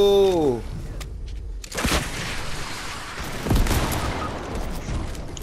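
Gunfire in Fortnite Reload: a handful of loud sharp shots and a heavy boom, scattered over a few seconds amid game noise, with a short tonal game sound at the start.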